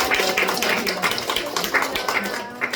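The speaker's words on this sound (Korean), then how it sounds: "박수를 한번 합시다." Church congregation clapping together, a dense sustained patter of many hands filling the room at steady loudness for a few seconds with no speech over it.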